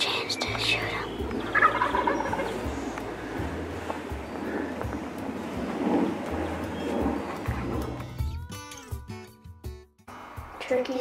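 Several wild turkey toms gobble at a distance from a field area, repeated over steady low rumbling background noise.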